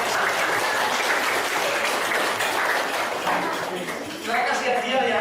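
A classroom of children claps together during an informatics lesson, with loud, busy applause that briefly dips and then picks up again.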